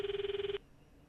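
A video game's phone call tone rings in a rapid electronic trill for about half a second, then cuts off into quiet room tone.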